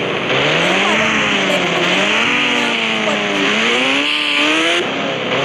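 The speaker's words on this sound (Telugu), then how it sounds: "నిన్ననే మన కోసం నింజా H2R బైక్ని తెప్పించాను" A Kawasaki Ninja H2R motorbike engine in the Indian Bike 3D video game revs loudly and continuously, its pitch sweeping up and down in waves as it accelerates, with no talking.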